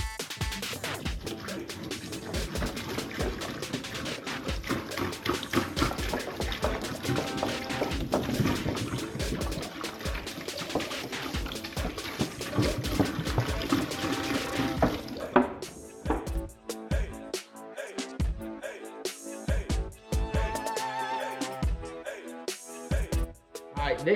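Water is emptied out of jugs, a continuous liquid pouring and splashing that runs for about fifteen seconds before breaking into intermittent splashes and drips, fairly close and with no talking.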